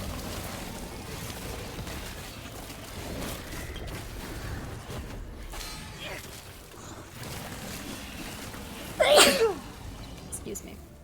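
A single sharp sneeze bursts out near the end, loud and close, after quiet room tone with faint background game sounds.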